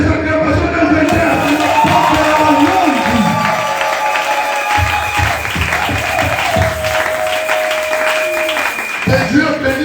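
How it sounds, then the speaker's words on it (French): Church congregation applauding and cheering at a Feast of Tabernacles sermon, sustained loud clapping and crowd noise for nearly ten seconds, with a voice speaking over it. "Je vais écouter les acclamations d'un vainqueur."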